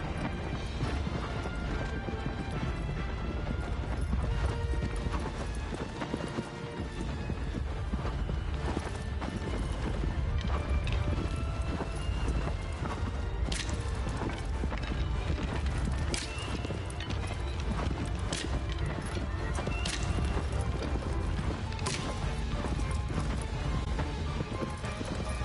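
Horse hooves gallop in Shadow of the Colossus, a steady, fast clip-clop rhythm that runs throughout under a dense bed of game sound, with a few sharper impacts along the way.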